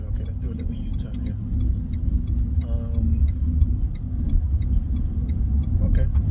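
Small car making a slow U-turn, a low steady engine rumble with road noise, while someone talks over it intermittently.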